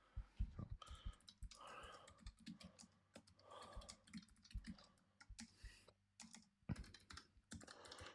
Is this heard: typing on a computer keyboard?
yes